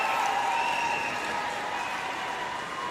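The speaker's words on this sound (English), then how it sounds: "Claps for the current European champions in men's doubles" At a para table tennis wheelchair doubles match, the crowd applauds the men's doubles European champions. The clapping is a steady, even patter from a modest audience, with a faint tonal hum underneath.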